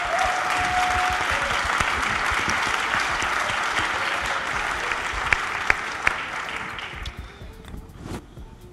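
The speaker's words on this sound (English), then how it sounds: "All these players, give a big applause for this" Audience applause at a tennis press event, a dense steady wash of clapping from a crowd that stays loud for about seven seconds, then thins out and fades near the end.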